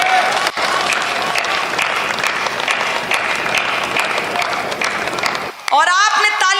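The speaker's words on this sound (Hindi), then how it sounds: "आपने तालियां शायद इसलिए बजाई हैं" Audience clapping at a Hindi poetry recital, a dense sustained round of applause heard close, with a voice cutting in over it near the end.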